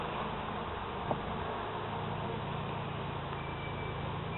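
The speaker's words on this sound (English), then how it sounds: "This hive's looking real good. A lot of bees." Honey bees hum in a dense, steady drone at an opened hive during an inspection, a continuous buzzing close by with a brief faint click partway through.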